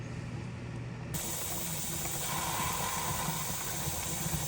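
Steam vents from a pressure canner holding venison before the regulator weight goes on, a steady broadband hiss that jumps louder about a second in and then holds constant, with no voices.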